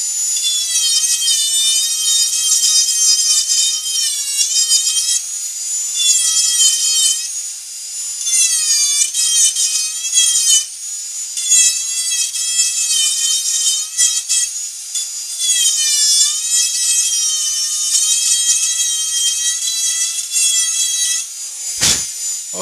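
A Ram Micro carver power-carves a small wooden prototype tree house, giving a loud, continuous high-pitched whine from the rotary tool. The pitch rises and falls as the bit bites into the wood, and no one speaks.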